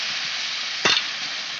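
Chicken with spices sears in a pan for kosha, a dense steady sizzle with one brief louder scrape or stir midway, no voices.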